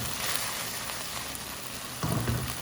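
Thin-sliced beef searing in a hot pan for Mongolian beef, a steady close sizzle and crackle that swells slightly louder toward the end.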